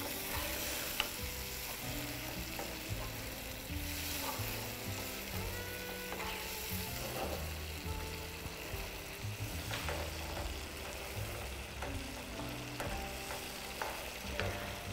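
Vegetables and shrimp frying in a pan for a pasta dish, a steady loud sizzle throughout with scraping and clinking as everything is stirred together, no voices.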